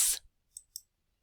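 A few faint computer mouse clicks on a link, a brief burst followed by two small separate clicks, close and isolated against silence.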